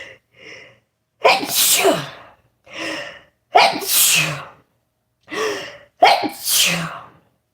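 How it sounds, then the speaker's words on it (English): Several loud sneezes in a row, close by, each with a sharp inhaled build-up and explosive burst, separated by brief pauses. "gonna sneeze."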